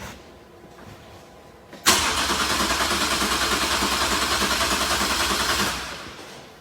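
A vehicle engine with low fuel pressure cranks after a quiet moment, a loud rapid rhythmic churn of the starter running for about four seconds without catching, then fading away, close and with no talk.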